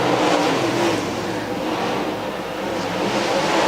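A late model race car on a qualifying lap at Kankakee County, its engine a loud continuous roar that dips slightly mid-lap and swells again, heard from the track with no voices.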